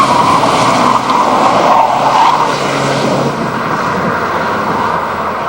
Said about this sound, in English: Dodge Daytona IROC RT on a little test drive.